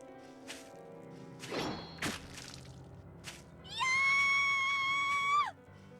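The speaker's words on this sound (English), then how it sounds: "Fear, grief, lamentations, and screams of death whirl about like a storm." A shrill, sustained cry with steady harmonics rises after scattered thuds and swishes, a game sound effect from a PS Vita audiobook-style game, loud and alone for about a second and a half before cutting off abruptly.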